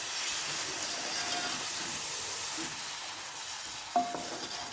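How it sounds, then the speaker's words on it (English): A tomato and onion mix sizzles steadily in a frying pan, a close, continuous hiss of frying with a brief clink of a utensil near the end and no talking. "Sizzling very beautifully."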